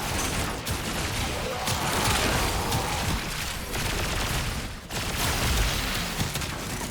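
The Incarnon Prisma Angstrum weapon in Warframe fires in a run of steady, fairly quiet bursts with a few short breaks. The shots have a light, ray-gun-like character, and no one speaks.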